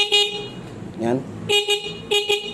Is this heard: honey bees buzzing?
no